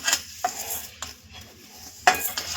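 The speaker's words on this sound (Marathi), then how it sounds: "आता आपलं पॅन गरम झालेलं आहे आपण त्यामध्ये बडशोप टाकून घेऊया" Fennel seeds roasting in a hot dry pan for mukhwas, a few quick scraping stirs with spatula taps over a faint crackle, close and intermittent.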